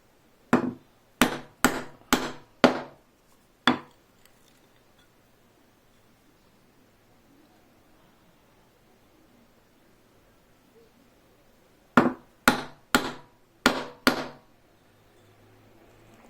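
A chisel struck with a mallet chops mortises for a bow-saw: a quick burst of five or six sharp, close knocks, a long quiet pause, then another similar burst of hard, evenly spaced blows.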